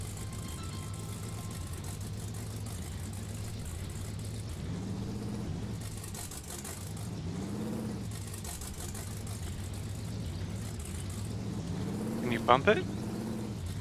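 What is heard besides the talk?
truck engine revving, tires spinning in MudRunner video game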